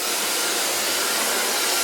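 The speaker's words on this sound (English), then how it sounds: "Now I'm going to blow dry the hair using a medium brush." A blow dryer dries hair with a medium brush, a loud, steady broadband whoosh of rushing air heard close up and alone for under two seconds.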